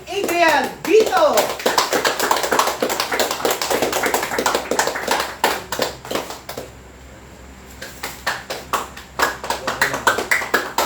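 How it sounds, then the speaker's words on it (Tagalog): Audience clapping for Adrian Vito at a home group mentoring session, a burst of quick, dense applause that tapers briefly before resuming in scattered claps, with voices speaking near the start. "bilyong-bilyong palakpak para kay Adrian Vito"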